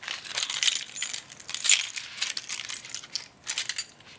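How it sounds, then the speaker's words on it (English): Keys jingle from a pocket in a close, dry recording, giving bright repeated metallic clinks and jangles in irregular bursts over about four seconds with no talking. "this is keys jingling from pocket"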